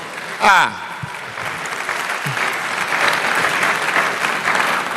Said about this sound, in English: Oh, please, a better round of applause